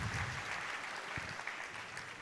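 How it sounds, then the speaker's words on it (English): Audience at a chartered accountancy students' conference inaugural session applauds a guest, a fairly faint, even patter of many hands clapping throughout. "Please give a round of applause to CA Geeta AB."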